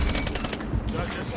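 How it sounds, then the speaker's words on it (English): Rapid bursts of automatic gunfire ring out in a first-person shooter game, a dense rattling volley for about half a second before settling into lower background noise. "Taking effective fire!"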